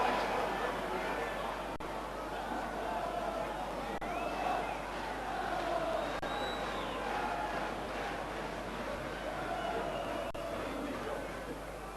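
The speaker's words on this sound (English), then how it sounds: "The crowd are highly charged now." Football crowd at Home Park during a 1996/97 Plymouth Argyle match against Notts County, a distant, constant roar of thousands of voices with swelling chants and shouts, steady and fairly faint throughout.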